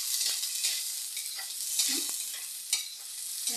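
Garlic frying until golden brown in a pan, with a steady close sizzle and occasional stirring scrapes and taps, no voices.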